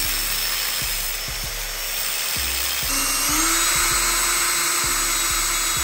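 A power drill whines in short repeated bursts while drilling plastic PVC brackets, rising in pitch as it bites, with brief pauses between pulses.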